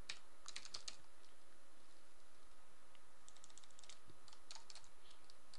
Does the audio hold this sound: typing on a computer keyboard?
yes